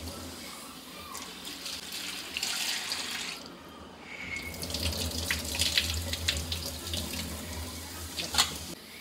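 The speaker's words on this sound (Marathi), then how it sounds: "ही दोनदा अशी चांगली स्वच्छ पाण्याने धुवून घ्यायची।" Tap water runs steadily into a sink as prawns are rinsed clean, a continuous close splashing stream with brief pauses and small drips and clinks between the gushes.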